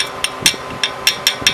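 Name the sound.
hammer tapping a spindle nut on a Honda Civic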